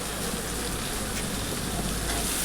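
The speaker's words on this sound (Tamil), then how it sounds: "நான் வந்து இப்போ கேரட்டு, முருங்கைக்காய் எல்லாத்தையும் போட்டு நல்லா முருங்கைக்காய் போட்டு நல்லா வதக்குறேன்" Carrots and drumstick pieces sautéing in a pan give a steady, dense sizzle with no break, close and moderately loud, alone without talk.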